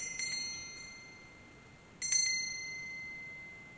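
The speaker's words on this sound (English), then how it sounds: "bells and ringing of bells are signs of celebration" Small bell giving two bright, clear dings about two seconds apart, each fading quickly over a quiet background hiss, faint and fairly close.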